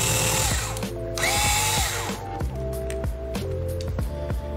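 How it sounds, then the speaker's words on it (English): A small electric screwdriver runs in short repeated bursts, unscrewing the Wi-Fi bracket inside an HP Chromebook 11 G9, close and fairly loud with brief pauses between spins. "you have to unscrew the Wi-Fi bracket from the card"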